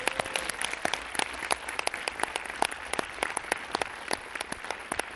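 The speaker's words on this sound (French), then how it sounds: "Est-ce qu'on applaudit encore une fois Philippe et Elodie de nous avoir rejoints ce soir?" An audience in a cinema applauds the actors after a film presentation, many hands clapping in a dense, lively patter with sharp individual claps standing out, sustained without talk.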